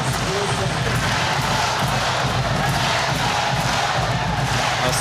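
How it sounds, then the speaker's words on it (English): A sellout arena crowd at a Rainbow Warriors versus BYU volleyball match roars and cheers in a continuous loud wash, with a commentator's voice faintly underneath. "A sellout crowd, getting everything it came for"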